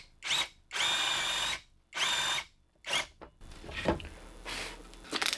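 A power drill with a dull bit whirs in several short bursts with pauses between, then grinds more roughly as it bores a bolt hole into a desk, close by.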